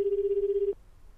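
An unanswered telephone rings in a single steady warbling burst on the line, then cuts off abruptly into near silence.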